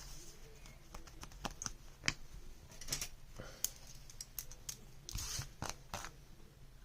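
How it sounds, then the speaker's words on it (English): Scissors snip the corners off a small patchwork fabric tag, producing a quiet series of crisp, close clicks and snips at an uneven pace. "And now we just need to cut these corners off."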